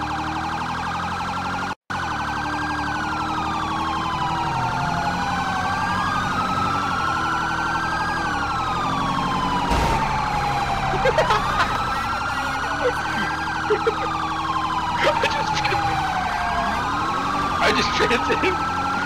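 An ambulance siren in a driving video game wails continuously, several overlapping siren tones sweeping up and down over traffic and engine noise.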